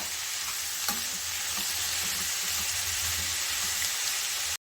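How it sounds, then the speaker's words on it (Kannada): Chopped ridge gourd sautéing in a pan over a low flame gives a steady, dense sizzle that runs unbroken throughout, close and fairly loud, with no voices. "ಸ್ಟವ್ ಫ್ಲೇಮನ್ನು ಸಿಮ್ಮಲ್ಲಿ ಇಟ್ಕೊಂಡು ಇದನ್ನು 2 ನಿಮಿಷ ಹಾಗೇ ಬಾಡಿಸ್ಕೋಬೇಕಾಗತ್ತೆ"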